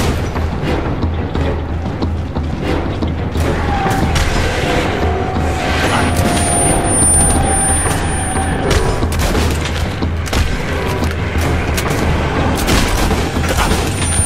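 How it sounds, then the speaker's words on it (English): A sonic blast weapon going off in the post-apocalyptic shooter Metro 2033 Redux, heard as a dense, loud wash of booming, crackling bursts with no clear gaps, continuous over a low rumbling backdrop. "Yeah, it was a sonic blast."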